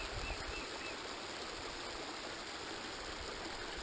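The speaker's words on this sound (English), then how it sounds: "A good shot of the river coming down there." The Sabinal River flows steadily in Lost Maples State Natural Area, a soft continuous rush of water heard fairly close and alone, with no voices.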